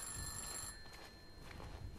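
A telephone bell rings in the horror video game I'm Counting to 6, a faint, high metallic trill lasting under a second, followed by soft shuffling footsteps.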